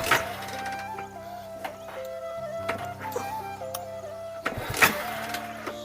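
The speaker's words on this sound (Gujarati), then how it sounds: "અને ત્યાર પછી હવે કિક મારીએ છીએ." A Hero Splendor Plus motorcycle that has suddenly stalled is kicked several times. Each stroke gives a sharp clunk and brief mechanical clatter, and the engine never catches.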